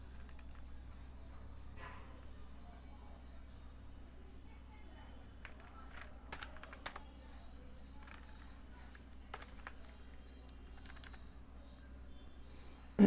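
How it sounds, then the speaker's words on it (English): Scattered clicks of computer keyboard typing, faint and irregular over a steady low hum, with a louder thump at the end. "now simply click enter."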